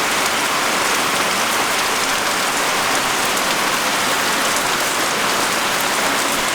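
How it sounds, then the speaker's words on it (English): Heavy rain pours steadily, a dense continuous hiss of drops drumming on surfaces, with no voices. "it has started to rain really hard"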